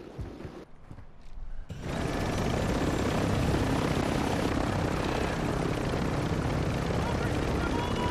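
A helicopter in the video game Warzone 2 starts up after a brief quiet moment, then a loud, steady rotor and engine roar fills the rest, with players' voices mixed in.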